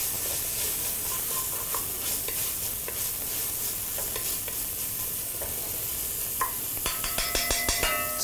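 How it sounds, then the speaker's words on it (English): Onions and garlic sizzle and fry steadily in a pan while a utensil stirs them, followed by a quick run of sharp scraping clicks against the pan near the end. "I'm gonna get this stirring just a little bit"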